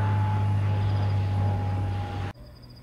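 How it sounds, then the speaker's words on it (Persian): An airplane in a flight simulator game, heard from outside the aircraft: a steady, loud engine drone with a whining tone that cuts off abruptly near the end, leaving a faint hum. "الان صدای هواپیما رو داریم میشنویم"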